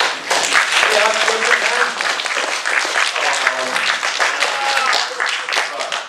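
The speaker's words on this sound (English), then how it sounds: "Big clap for Mr. Moorhead" Indoor audience at an event gives sustained applause, dense steady clapping throughout with voices mixed in.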